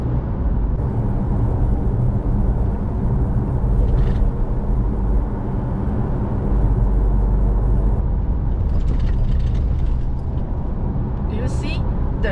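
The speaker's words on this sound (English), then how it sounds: "There's a very bumpy roads, but the car is still really stable." An Isuzu D-Max pickup travels a bumpy road, a steady low road rumble and cabin drone running throughout, with brief knocks and rattles near the end.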